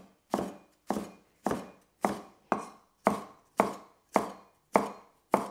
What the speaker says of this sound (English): the thicker parts of bok choy, we're gonna cut through